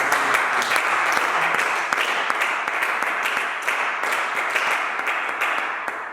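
A church congregation applauds loudly for Jesus: dense, continuous clapping close by, with some cheering mixed in, steady for several seconds and easing slightly at the end.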